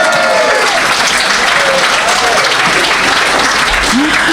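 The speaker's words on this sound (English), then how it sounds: "How about a clap for the weather that's gone troppo?" A crowd at a crime-writing awards night claps, a loud, sustained wash of applause with a few voices and cheers mixed in.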